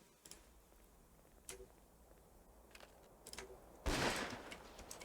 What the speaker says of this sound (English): My sniper's shooting at people.